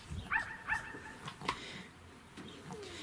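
A dog barking and yipping somewhere outside, a few short distant barks in a quiet room with faint background noise.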